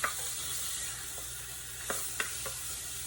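Chipped beef fries in butter in a pan, a steady close sizzle with a few soft scrapes and clicks from stirring.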